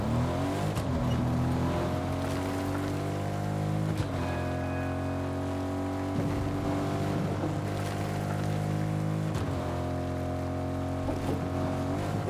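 Car in the video game Fortnite driving along a train track, a steady engine whine with rising gear-like sweeps that drop back every few seconds, loud and continuous with no talking.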